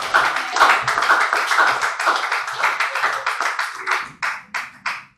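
A church congregation claps hands in a steady, loud rhythm to acclaim God, the claps thinning out to a few separate strikes at the end.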